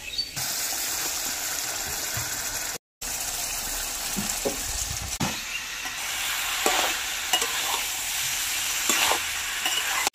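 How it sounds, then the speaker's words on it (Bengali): Continuous sizzling of fried potato, pointed gourd and soybean chunks frying in spices in a pan, with intermittent scraping and clinks of a spatula stirring, close by, no speech. "কষানো মশলার সাথে ভেজে রাখা আলু, পটল, সয়াবিন আমি 10 মিনিট মতো কষিয়ে নেব"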